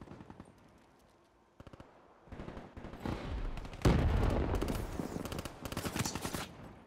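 Rapid automatic gunfire from Black Ops 3 multiplayer, with bursts of submachine gun shots rattling in quick succession, growing denser and louder midway with heavier impacts, and no talking.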